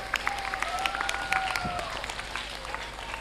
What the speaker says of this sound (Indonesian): Aplaus untuk peserta dan panitia kita.